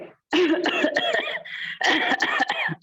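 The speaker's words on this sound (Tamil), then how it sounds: "இப்ப இந்த மாதிரி கை வச்சுட்டு இருமல் செய்யுங்க" A person coughing hard and close during a yoga breathing session, giving a rapid series of forceful coughs and throat-clearing bursts in two clusters after a short silence.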